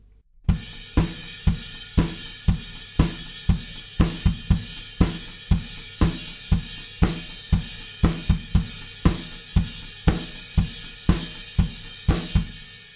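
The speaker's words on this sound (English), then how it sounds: "When we get to the chorus, there's crashes on beat 1, 2, 3, and 4, and the offbeats are still playing on the hi-hats." Drum kit playing the chorus groove of a song, with crash cymbals on every beat and hi-hats on the offbeats: a dense, driving, cymbal-heavy pattern, loud and close with no voices.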